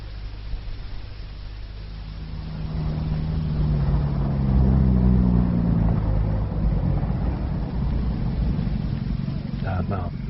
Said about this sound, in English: I'll bring the car around.